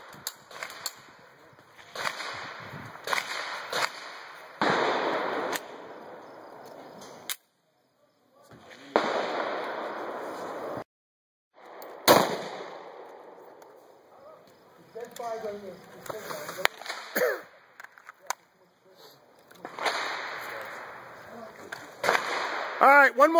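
Gunfire cracks out at a shooting range in volleys of sharp, loud reports, with short pauses between bursts and shouted commands heard in the gaps.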